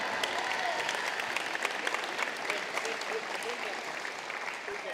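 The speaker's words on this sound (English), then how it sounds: "Give Kylie a big round of applause" An audience applauds for Kylie at a welcome-home gathering for state champion boys and girls soccer teams: dense, sustained clapping with a faint crowd murmur beneath, steady throughout.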